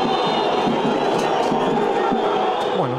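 Santos football supporters react after a home defeat, a large stadium crowd roaring and shouting together in a continuous dense wall of voices.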